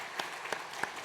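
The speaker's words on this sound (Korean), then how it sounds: "우리 박수로 환영하시겠습니다." A church congregation clapping in welcome for visitors during a Sunday service, a few soft, sparse claps spaced apart, faint and distant in a quiet room.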